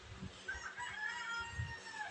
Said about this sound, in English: Don't mind the chickens.